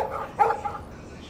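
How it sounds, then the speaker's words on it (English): A dog barks in the Life is Strange video game: one short, moderately loud bark over a faint background hum, followed by quieter yips. "Stop that! Stop! No barking."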